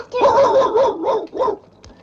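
A dog named Rusty gives a quick run of close, loud barks and yips, about four bursts in succession before going quiet.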